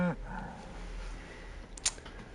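An ox lows in the Baldur's Gate 3 video game: one low, faint moo at the very start, followed by quiet ambient game sound and a brief sharp click.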